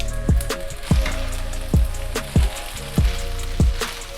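Seafood pasta gets tossed in a sizzling pan, with about seven regular thumps and scrapes of the utensil over a steady frying hiss, close up and with no talk.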